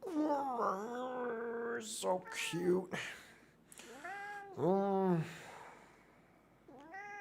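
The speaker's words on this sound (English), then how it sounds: "Yeah, he's a very vocal cat." A talkative pet cat meows repeatedly in drawn-out, rising and falling calls, close and fairly loud, alternating with a person speaking softly in between.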